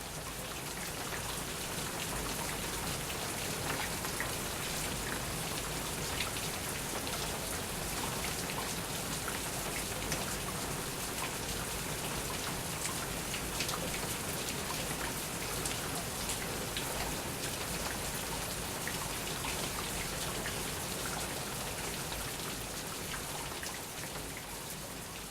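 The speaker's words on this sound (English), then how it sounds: "So I've made a recording of quite heavy rain." Heavy rain in Australia pours steadily for the whole stretch, a dense, even hiss of drops striking surfaces, close and constant, with no voices.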